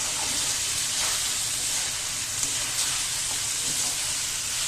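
Baim fish eggs fry with onion in a pan, giving a steady, dense sizzle throughout with a few faint pops and soft stirring scrapes, close and continuous with no talk.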